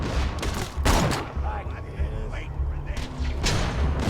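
Gunfire in Borderlands 2 on the Nintendo Switch: dense, loud bursts of shots and heavy thumps crowd together nonstop, with game sounds layered underneath.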